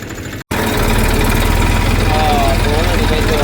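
The engine of a sowing machine runs steadily in a farm field during planting after rain, a loud continuous idling drone that carries on without break after a brief cut near the start.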